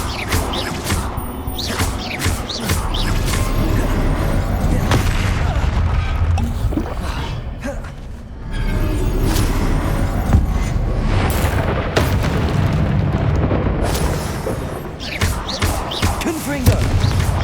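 Repeated Confringo fire blasts from the PS5 game Hogwarts Legacy, loud booms, crashes and whooshing impacts rolling one after another in a busy fight, with brief spoken spell calls mixed in.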